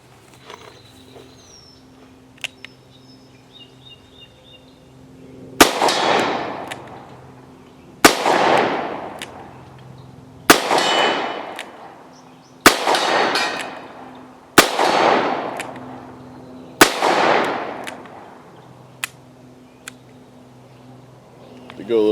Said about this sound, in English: All right, Wombat, go ahead and give us some GP100, bud.